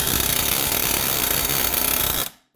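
A drill bores into a ball joint rivet on a 2014 Chevrolet Trax, a loud continuous grinding whir for about two seconds before stopping abruptly.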